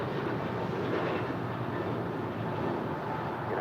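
An Avianca Airbus A319 airliner arriving at LAX on its flight from Guatemala City, heard as a steady, dense, distant rumble and roar that holds evenly throughout.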